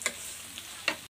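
Duck giblets fry in a pan, a faint, soft sizzle broken by a few sharp clicks and a stirring scrape, cutting off abruptly at the end.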